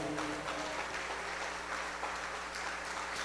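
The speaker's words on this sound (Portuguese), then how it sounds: "Dá para Jesus uma salva de palmas aí." A church congregation claps for Jesus during a Portuguese-language worship service, a steady wash of clapping with a low music hum underneath.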